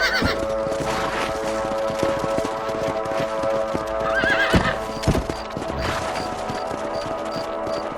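Horse hooves clip-clop in a steady rhythm in the video game Red Dead Redemption, with occasional whinnies and a few sharp knocks over a busy background.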